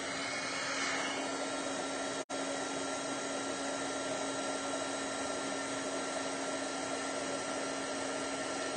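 A heat embossing tool blows hot air onto wet ink on a papercraft project, giving a steady, loud whooshing fan hum with a constant motor whine and one very brief cutout.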